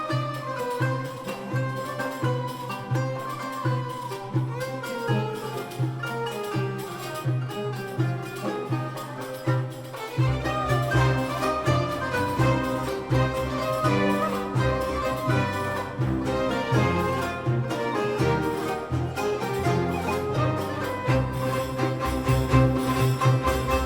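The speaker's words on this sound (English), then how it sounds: "the discovered music of Mr. Ehrhardt sounds like this" Orchestral music by Salieri plays continuously, with sustained strings and layered melody that swells into a fuller, louder passage partway through.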